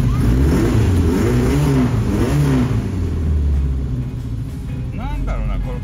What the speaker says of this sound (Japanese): あ、アイドリングのボソボソはカムキャブの調整じゃないね。